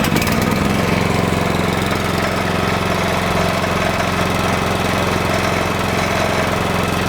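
An old Uncle Sam C20 tractor engine, fitted with a non-original carburetor, runs loud and steady at close range, a continuous rough throbbing idle with no pauses.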